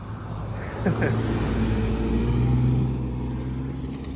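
Cars drive past on a road beside a beach, a steady low engine and tyre rumble swelling slightly in the middle as vehicles go by, continuous and moderately close with no talk.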